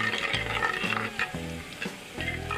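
Garlic fries with spices in a pan for mutton kunna, giving a continuous sizzle and crackle broken by stirring scrapes and clinks of a spoon against the pan.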